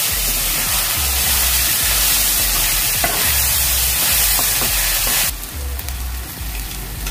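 Soya filling fries and sizzles in a pan, loud and close, with steady hissing while a utensil stirs and scrapes through it.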